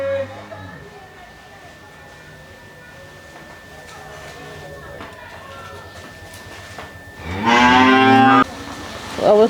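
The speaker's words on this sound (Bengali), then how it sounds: "গরুগুলো হাম্বা হাম্বা করে ডাকতেছে" Cows at a village homestead low loudly in the morning, one long close moo near the end after a quieter stretch of farmyard ambience and faint voices.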